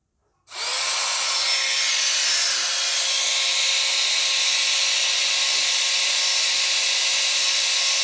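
Upgraded, rewound DC 755 motor runs on an 18–20 volt homemade battery pack, spinning up abruptly and holding a loud, steady high-pitched whine at high rpm with no talk.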